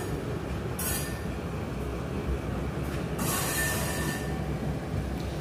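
Train running on the Rohtak-Meham-Hansi-Hisar railway line, a steady rumble of wheels on track with two bursts of high metallic wheel squeal, heard close and continuous.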